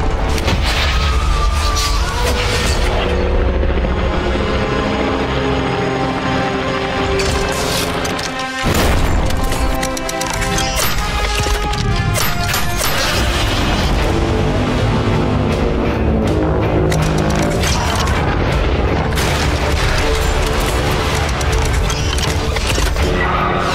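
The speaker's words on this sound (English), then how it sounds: "Godzilla is destroying everything." Godzilla smashing through everything in a monster battle, with dense, loud booms, crashes and thuds layered over a dramatic music score, continuous and overwhelming throughout.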